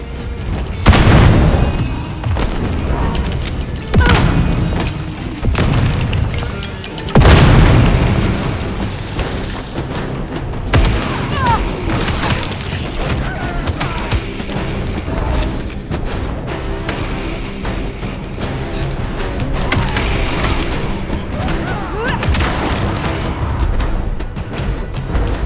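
Heavy gunfire and explosions in the Vampire Bloodlines 2 video game, a dense, loud barrage of bursts and deep booms that keeps going for the whole stretch.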